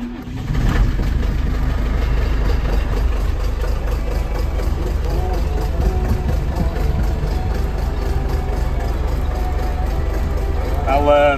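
A 1990s John Deere 6300 tractor with a 75-horsepower engine idles steadily while warming up, a constant low diesel rumble that holds level throughout, with a brief rise in revs near the start.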